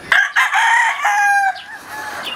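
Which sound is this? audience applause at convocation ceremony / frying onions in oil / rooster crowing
rooster crowing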